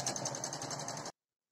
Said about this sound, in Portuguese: eu vou fazer uma costura de cada lado aqui